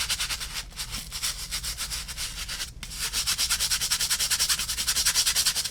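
A stiff-bristled brush scrubs a pair of Chaco sandals in steady, rapid back-and-forth strokes, close and continuous with one brief pause.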